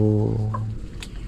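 Chickens cluck and murmur close by, with a low throaty call at the start and a few short sharper clucks after.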